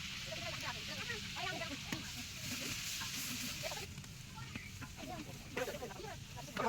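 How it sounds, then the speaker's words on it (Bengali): Onions and green chillies fry in oil for khichuri in a village kitchen on a winter night, giving a soft, continuous sizzle with occasional stirring scrapes. People talk over the frying for most of the stretch. "পেঁয়াজ যতক্ষণ যাবত বাদামি কালার না আইবে ততক্ষণ যাবত গুন্ডাইতে হইবে"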